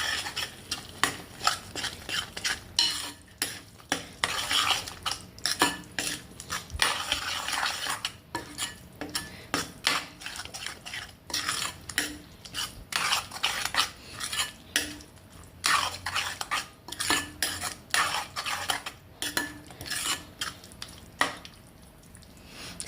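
Spinach paste is stirred into a paneer curry in a pan, with repeated scraping of a spoon against the metal, clinks and soft sizzling in uneven bursts at close range.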